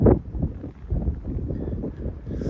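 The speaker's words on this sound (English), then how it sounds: "I know the wind's blowing" Wind gusts steadily along a mountain stretch of the Appalachian Trail in Maine near the Bigelow Col, buffeting the microphone with a low, continuous rumble that swells and eases.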